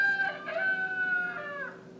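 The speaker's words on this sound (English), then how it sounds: "a rooster," A WiFi soundboard plays a single rooster crowing loudly and clearly, one drawn-out call that fades at the end.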